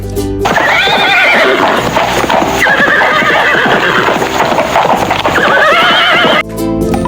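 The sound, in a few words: horse neighing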